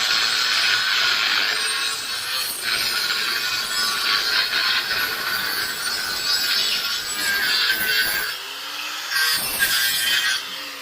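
An angle grinder cuts through a poorly welded steel frame with a sustained loud, harsh whine that wavers and dips briefly near the end.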